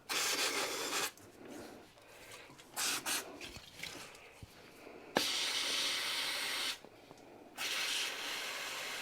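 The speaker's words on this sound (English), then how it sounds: "Brake cleaner. That's going straight through there." Brake cleaner sprays in hissing aerosol bursts through the passages of a small Stuart engine crankshaft, several loud sustained blasts separated by brief pauses and faint handling clicks, heard up close with no talking.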